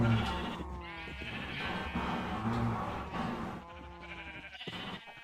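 Sheep in the Minecraft modpack Agrarian Skies bleat in several separate calls, moderately close, with faint background sound and no talk.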